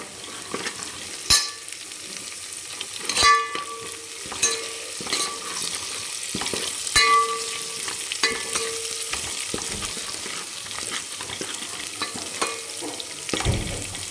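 Ginger, garlic and green chillies are sautéed in a pan for dhaba-style egg curry, with a steady frying sizzle and repeated clinks and scrapes of stirring scattered through, close and without talk.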